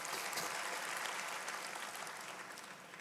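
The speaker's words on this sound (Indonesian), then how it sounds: "Boleh tepuk tangan bagi dia, saudara." Congregation applauding in a church, a faint, even wash of clapping from many hands that holds steady and tapers slightly toward the end.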